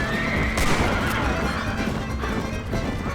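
A horse whinnies in the Red Dead Redemption video game, a loud high neigh over a busy mix of hoofbeats, impacts and game noise, with some talk present.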